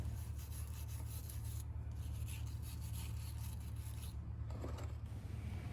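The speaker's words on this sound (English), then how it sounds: "To not strip the bolt, I cleaned it up with a wire brush." Steady fine scratching of a wire brush scrubbing a differential bolt on a Toyota 4Runner, continuous and close under a constant low hum, with slight shifts in texture as the strokes change.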